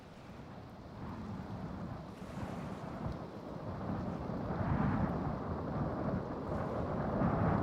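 A heavy rain and thunderstorm ambience forms a continuous rushing wash with deep rumbling underneath, growing louder and more forceful toward the end, with no talking.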